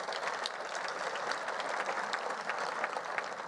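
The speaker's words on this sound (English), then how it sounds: "One more round of applause for Gordon." Audience applause at a 2018 food systems conference, a dense, steady clapping from a large seated crowd that fills the hall evenly throughout.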